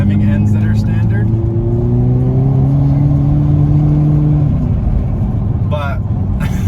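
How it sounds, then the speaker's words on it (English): A Hyundai Kona N with a dual-clutch gearbox accelerates hard, its loud engine drone climbing steadily before dropping sharply at an upshift, followed by a brief burst of exhaust crackle. "you get the DSG farts"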